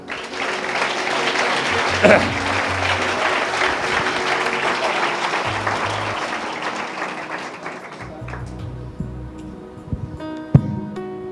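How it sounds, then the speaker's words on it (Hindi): A church congregation breaks into loud, sustained applause during a sermon, a dense wash of clapping lasting about eight seconds before thinning out to scattered claps and a few voices. "यीशु लिए जोरदार ताली।"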